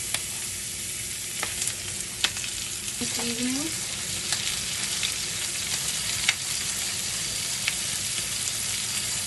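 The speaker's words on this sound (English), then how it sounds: "You want to hear that nice sizzle." Seasoned chicken skin sizzling steadily in a hot pan, a dense, loud crackle with occasional pops, and a brief spoken word in the middle.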